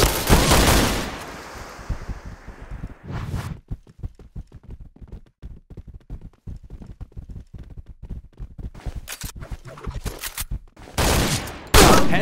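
Gunfire from the shooter game Point Blank in practice mode: a dense, loud burst of rapid shots opens, sparse sharp single shots and short volleys scatter through the middle, then heavy bursts return at the end.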